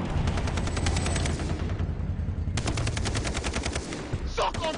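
Rapid automatic gunfire in the video game Far Cry 3, with two long, loud machine-gun bursts split by a brief lull and a faint sharp sound near the end.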